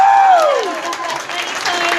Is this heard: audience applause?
yes